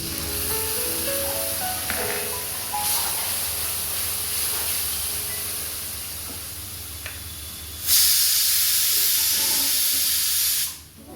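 Asafoetida, ginger, green chili and poppy seed paste hit hot oil in a pan, giving a steady close hiss that swells into a louder sizzling burst near the end.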